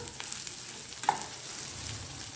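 Okra sautés with masala in a hot pan, giving a continuous close crackling sizzle with a few light stirring scrapes and one sharper clink.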